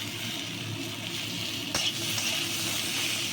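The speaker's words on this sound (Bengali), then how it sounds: "এবার আমি মশলাটা সুন্দর করে কষে নেব" Spice paste sizzles steadily in a pan for a potato and yardlong bean curry, a constant frying hiss with one sharp clink or scrape partway through.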